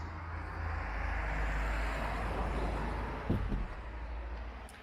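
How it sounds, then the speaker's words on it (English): Road traffic at a roundabout, heard as a steady wash of passing engines and tyre roar from nearby vehicles, with a brief louder thump near the end. "Sorry about the noise, I'm sat on a roundabout."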